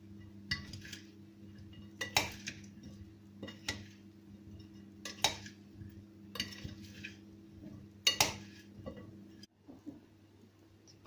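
Utensils stir potato salad in a dish, giving scattered clinks and scrapes in quick bursts, close but fairly quiet over a steady low hum.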